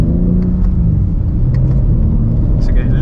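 A 2022 BMW M3 Competition xDrive (G80) rounds a roundabout with a steady, loud low engine and road rumble heard from inside the cabin, with no clear change in pitch.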